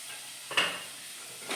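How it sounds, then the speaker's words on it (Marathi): Green peas and cashews frying in a pan for pulao, giving a soft steady sizzle with one brief stirring scrape and hiss in the middle and another at the end. "चांगली फ्राय करून घेऊया"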